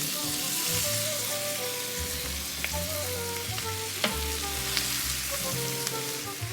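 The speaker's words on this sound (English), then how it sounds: "Melt 2 tablespoons of butter. We're going to caramelize half of a white onion and 8 ounces of portobello mushroom." White onion and portobello mushrooms cook in melted butter in a skillet, giving a steady close sizzle with occasional soft clicks of a utensil, running continuously with no talking.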